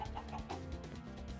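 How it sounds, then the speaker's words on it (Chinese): A chicken in the Minecraft game clucks in a quick run of short, close, repeated notes, with no talking over it. "一直听到有鸡叫声。"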